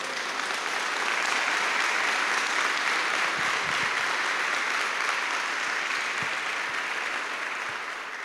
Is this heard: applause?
yes